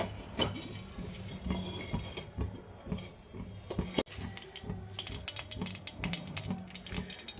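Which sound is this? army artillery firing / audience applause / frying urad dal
frying urad dal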